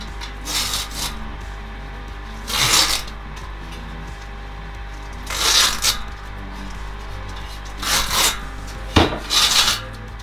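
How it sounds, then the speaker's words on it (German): Old rim tape is peeled off a mountain bike rim by hand, starting at the valve hole, giving four separate bursts of dry tearing and rubbing scrapes spaced a few seconds apart, close and moderately loud. "Hier am Ansatz, wo das Ventilloch ist, kann man das einfach abziehen."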